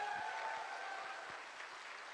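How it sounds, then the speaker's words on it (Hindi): Applause from an audience at a Hindi-language awards event in Banaras, honoring a Crown Diamond achiever, a steady even wash of clapping throughout. "सबसे शानदार जानदार तालियां होनी चाहिए"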